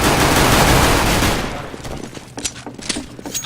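Rapid video-game gunfire from Counter-Strike on the de_train map blasts continuously through the first second and a half as windows are shot out, followed by scattered single shots and clatter at lower level.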